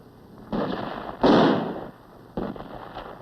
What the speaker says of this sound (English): It was quickly met with small arms and mortar fire.